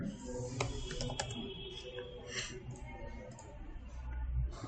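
Keys clatter on a computer keyboard as a web search is typed, a quick irregular run of clicks close by, with faint background noise.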